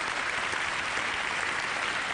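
Dense, steady applause from a large audience at an awards ceremony, a continuous wash of many hands clapping at close range with no voices over it.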